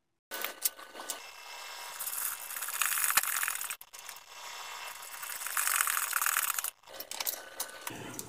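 Small hinge screws are driven by hand with a screwdriver into a wooden inlaid laptop case, giving close, quiet ratcheting and rubbing turns in several bursts, with short pauses between screws and a sharp tick partway through.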